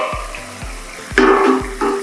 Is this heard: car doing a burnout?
no